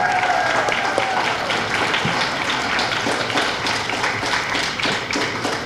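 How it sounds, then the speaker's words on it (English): Audience at a high school spring choir concert giving sustained applause, a dense, even wash of many hands clapping that stays loud throughout. "So I'd like to give Chloe a round of applause."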